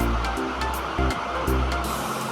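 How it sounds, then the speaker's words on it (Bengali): Potatoes and onion sizzle in hot oil in a pan for a fish chorchori, a steady close frying hiss with a few soft stirring bumps. "এবার দিয়ে দিলাম তো আলুর সাথে পেঁয়াজটাকে ভালোভাবে ভেজে নিতে হবে"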